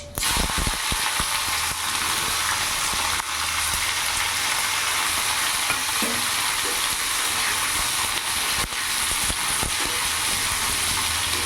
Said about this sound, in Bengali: এরই মধ্যে কেটে রাখা করলা আর আলু আমি দিয়ে দেবো